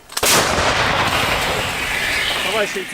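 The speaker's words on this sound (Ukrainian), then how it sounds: "Гармата! Постріл!" An M777 howitzer fires once with a sharp, booming blast, followed by a long rumbling roar that rolls on, loud and close, at a mobile gun position in wartime Ukraine.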